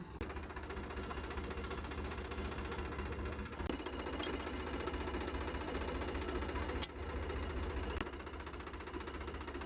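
A tractor engine runs in a village setting, a steady low mechanical rumble with knocking vibration, continuous and fairly close, with no voices over it.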